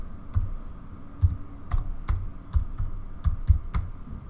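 Someone typing a status title on a computer keyboard, about a dozen distinct key taps in an uneven rhythm, close and moderately loud, with no voices.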